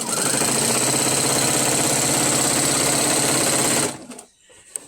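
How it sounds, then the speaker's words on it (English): A sewing machine fitted with a walking foot stitches quilt binding in a fast, steady whirring run. It stops abruptly near the end, leaving a brief quiet with a small click. "And as I sew, it'll go right over them and hold them in place."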